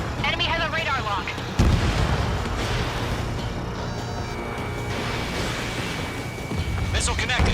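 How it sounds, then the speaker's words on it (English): A missile strikes an enemy aircraft in the flight combat game Ace Combat 7, a heavy booming explosion with dense rumble under constant jet and engine roar and radio chatter, loud and continuous. "Missile connected."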